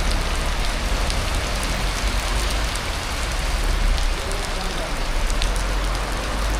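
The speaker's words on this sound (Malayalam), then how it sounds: "ഇതാ പെർളം ഭാഗത്ത് നല്ല മഴയാണ് ഇപ്പൊ, കണ്ടില്ലേ?" Heavy rain pours down in the Perla area, a loud, unbroken roar of drops drumming on surfaces, steady from start to finish.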